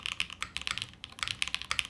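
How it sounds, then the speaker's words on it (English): Close-up keystrokes on The Martingale custom keyboard, a quick uneven run of sharp clacks with a brief pause midway, soft in level and with no voices. "nice sounding keyboard."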